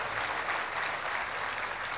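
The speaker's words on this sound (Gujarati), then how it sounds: "કેતન કાર્ય માટે જોરદાર તાળીઓ થઈ જાય." Audience applause at a Gujarati stage event, a short burst of dense clapping at moderate level, steady for two seconds with no voices over it.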